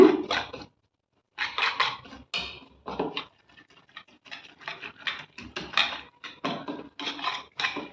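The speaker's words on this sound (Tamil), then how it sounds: "இப்போ எல்லாத்தையும் நம்ம இந்த இது வச்சு அடித்து எடுத்துக்கலாங்க" Eggs beaten with pepper in a bowl for egg paniyaram, a utensil clattering against the bowl in quick, uneven bursts of rapid tapping and scraping, close and fairly loud, with short pauses between strokes.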